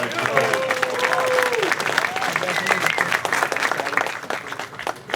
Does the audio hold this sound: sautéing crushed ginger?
no